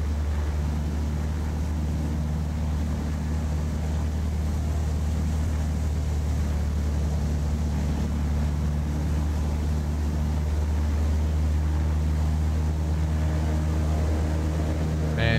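Maule M-7-235B light aircraft engine in the X-Plane 12 simulator on landing approach in a crosswind, a steady droning hum with low tonal harmonics that holds level and continuous throughout, with no talk.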